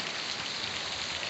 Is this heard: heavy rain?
yes